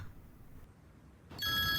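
Telephone ringing in a home during a family conversation, a single electronic ring starting abruptly near the end after a quiet room tone.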